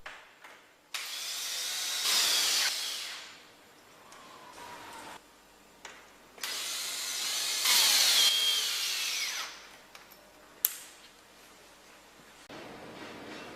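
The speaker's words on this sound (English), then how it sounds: "Proceed by fastening the locking parts using window construction screws." A power driver runs window construction screws into the locking parts of a Hautau window stay fitting, in three or four loud bursts of whirring separated by short pauses, close up with no talk.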